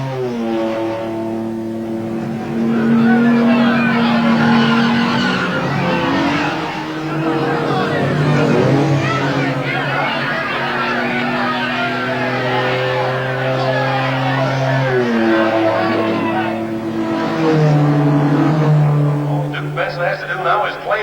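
Race cars engines, including an Italian Ferrari, droning and whining steadily through a sustained high-revving pass, loud and close, with voices talking over them throughout.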